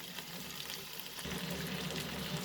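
Chicken and broccoli stir fry sautéing in a pan over medium-high flame, giving a steady broadband sizzle and crackle that thickens partway through, close and continuous with no talk.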